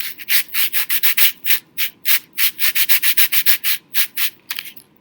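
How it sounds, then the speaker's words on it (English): Rhythmic scraping from a pool noodle scraper instrument, like a sand block rubbed back and forth, repeats in quick, even strokes, loud and close, with brief gaps between rubs. "now what I have is a scraper instrument that sounds like a sand block"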